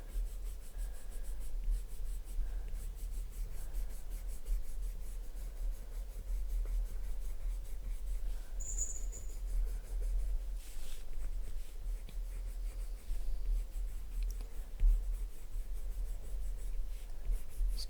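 An ivory Polychromos colored pencil shades over toothy paper with a soft, steady scratching and rubbing. The sound stays quiet and close, with no voices.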